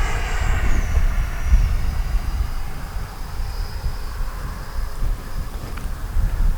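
A small Arrows Marlin 64mm electric ducted-fan RC jet flies overhead, its thin whining fan tone sliding in pitch as it passes, heard at a distance under steady wind buffeting on the microphone.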